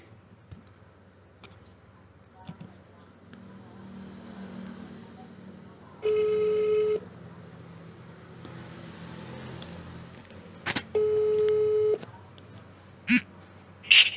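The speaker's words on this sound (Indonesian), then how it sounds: "Kita coba telepon." Telephone call being placed: two bursts of steady electronic ringback tone, each about a second long, with a short beep between them, over a faint room hum.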